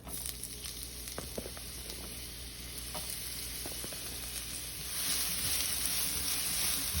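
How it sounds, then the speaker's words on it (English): Onion and garlic sizzle in olive oil in a pan, a steady, close frying hiss with occasional stirring taps that swells louder toward the end. "Now I'm going to put in just a little bit more olive oil. And I'm going to start going in with my onion and garlic."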